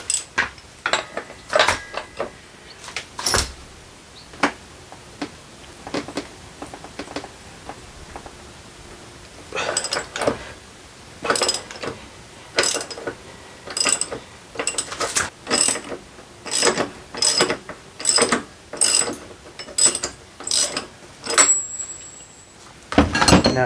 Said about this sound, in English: Now we're just going to loosen